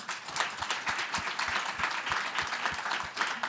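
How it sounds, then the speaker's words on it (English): An audience applauds panelists at the close of an Atlantic discussion panel on narrowing opportunity gaps. Steady, moderate clapping from a medium-sized crowd carries on for several seconds, with individual claps audible close to the microphone and no speech. "Let's give our panelists a round of applause."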